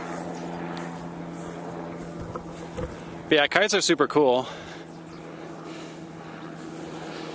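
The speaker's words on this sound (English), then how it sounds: "The helicopter's probably drowning it out right now." A helicopter flies overhead during outdoor birdwatching, a steady low drone running through the whole clip beneath a person talking.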